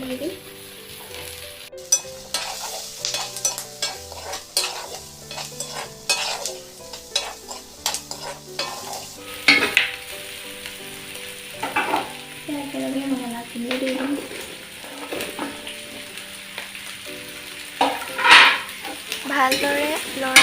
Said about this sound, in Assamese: এতিয়া মাংসটো অলপ ফ্ৰাই গৈছে দিব পৰা হৈ গৈছে আলুখিনি এবাৰ লৰাই দিম